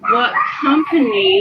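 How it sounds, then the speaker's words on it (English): A dog barks and whimpers indoors in a house, short yipping calls mixed with a person speaking over them, close and fairly loud. "you can hear her dog barking inside her house"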